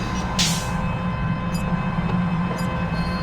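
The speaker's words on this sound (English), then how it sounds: "Closing doors. The train is leaving the station now." A train pulls out of a station in the video game Alpha Prime, with a steady, loud mechanical rumble and hum broken by a couple of brief, sharp hisses.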